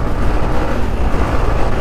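Yamaha MT-15 motorcycle engine with a dense, steady low rumble, loud and close, holding fairly even over a brief moment.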